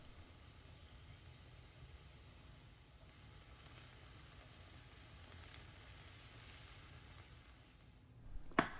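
Onion and garlic with a pinch of salt soften in a pan for risotto, giving a quiet, steady sizzle and hiss that runs evenly throughout, ending in a brief louder clatter.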